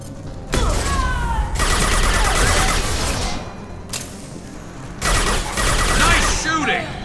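Gunfire in the Mass Effect Legendary Edition video game, two loud bursts of rapid shots with whooshing effects, separated by a short lull.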